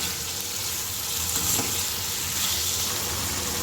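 Spices and oil are stirred in a hot pan for a Gujarati red cabbage sabzi, with turmeric, coriander-cumin powder and salt added. A steady close sizzle and fry runs throughout, with faint scraping of the stirring.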